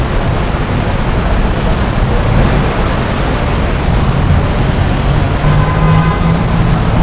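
Inside a moving train in Kuala Lumpur, Malaysia, headed for Bukit Bintang, a steady loud rumble and roar of wheels and car noise fills the whole stretch without a break.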